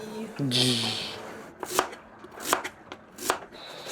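A big butcher knife chopping food aboard a sailboat, several sharp close thuds on a board spaced about a second apart after a brief squeal and hiss.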